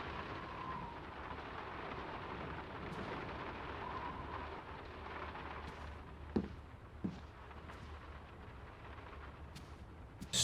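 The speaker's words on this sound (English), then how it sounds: "Stormy sea." A stormy sea in the video game Draugen, set on the coast of Norway, gives a low continuous rumble of wind and surf, broken by a few sharp knocks and cracks near the end.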